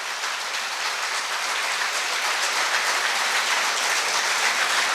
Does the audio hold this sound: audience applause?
yes